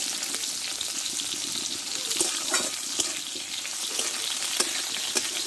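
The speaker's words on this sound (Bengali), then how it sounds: "এবার পটলগুলো কষে নেবো এক চিমটে আমি হলুদ দিয়ে দেবো" Pieces of pointed gourd (potol) are stir-fried in a pan with a pinch of turmeric. A steady, crackling sizzle of hot oil runs throughout, broken by occasional clinks of a spatula stirring, close and moderately loud with no speech.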